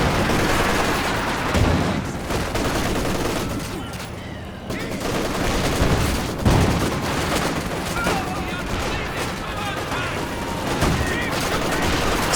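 Maxim and MG34 machine guns firing in the Company of Heroes 2 strategy game, dense overlapping bursts of automatic fire with occasional heavier booms, sustained and loud throughout a busy battle.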